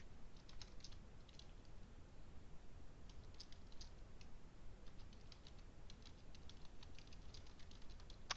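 Computer keyboard typing, quiet and close, with irregular light key clicks pattering continuously under a steady low background hiss.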